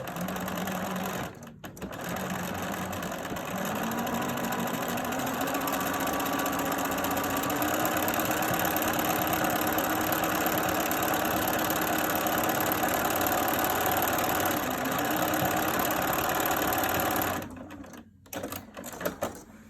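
A sewing machine runs steadily stitching a fabric face mask liner, a close, continuous motor whirr that holds for most of the stretch before stopping, followed by a few faint handling sounds.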